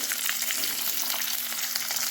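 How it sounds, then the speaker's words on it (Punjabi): Bright, continuous crackling sizzle of long-cut onions frying in hot tempering oil, close and steady with no voices. "ਹੁਣ ਅਸੀਂ ਇਹਦੇ ਚ ਪਾ ਦਵਾਂਗੇ ਲੈਂਥੀ ਪਿਆਜ਼ ਕੱਟੇ ਹੋਏ"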